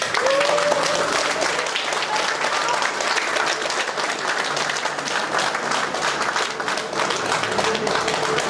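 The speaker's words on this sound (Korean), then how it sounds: "힘찬 박수와 환호로 맞이해 주시면 감사하겠습니다" Guests at a Korean wedding break into loud, sustained applause with some cheering as the groom enters the hall, a dense clapping roar lasting several seconds.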